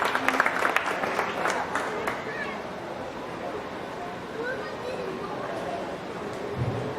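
Scattered audience applause at a county fair beef show, brief clapping early that fades into crowd chatter and ambient barn noise, with distant voices talking throughout.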